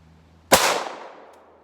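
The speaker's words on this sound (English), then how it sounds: "That's 3 shots. I hit it once out of 3." One sharp gunshot fired at a target 100 yards away, a loud, close crack that decays quickly into a short fading tail, with no voices.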